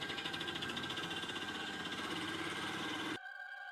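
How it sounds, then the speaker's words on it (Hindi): An old auto rickshaw engine runs with a rapid, uneven, rattling putter and a steady whine, then cuts off abruptly near the end, leaving a faint hum. "इंजन अजीब आवाज कर रहा था।"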